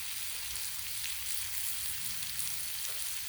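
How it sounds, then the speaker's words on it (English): Butter sizzling on a sirloin steak on a flat griddle, a steady, close frying hiss that runs unbroken throughout with no talking. "Put a little bit of this butter on top, let that soak in."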